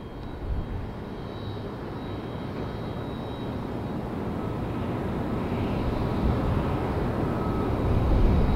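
Airbus A220 airliner on short final approach to Tampa: a low, rumbling jet-engine roar that builds steadily louder as the plane draws nearer, with no talking.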